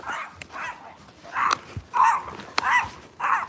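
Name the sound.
dog barking and whimpering on a walk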